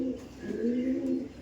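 A pigeon coos close by in low, throaty rolling calls that run continuously, with a faint background of other birds and no talking.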